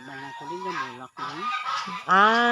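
Ducks on a family farm give loud, close honking quacks in a few rising calls with brief gaps, and a faint voice sits in the background.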